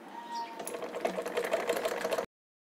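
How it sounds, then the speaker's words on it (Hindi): Sewing machine stitching a blouse piece onto its lining, a close, quick mechanical chatter of the needle running steadily for about two seconds before stopping abruptly. "इसके ऊपर में हम इसे रख करके सिलाई कर लेंगे"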